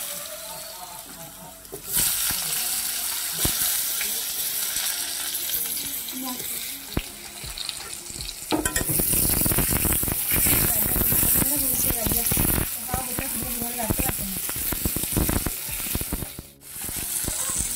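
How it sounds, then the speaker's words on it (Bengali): Potatoes dropped into hot oil with fenugreek seeds, setting off a loud, dense sizzle that swells sharply partway through and crackles on with stirring clatter, under a steady hiss of rain. "তো এগুলো ভাজা হয়ে গেছে মেথিগুলো, তো এখন আলুগুলো ছেড়ে দিলাম।"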